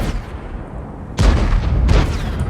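Two heavy tank cannon shots in World of Tanks, about a second apart, each a loud booming blast with a lingering rumble, preceded by faint background battle noise.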